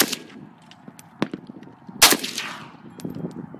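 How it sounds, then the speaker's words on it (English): Several sharp AK-47 rifle shots ring out at an outdoor shooting session, spaced irregularly, with one especially loud crack standing out among fainter reports. "Try to aim at what you're shooting."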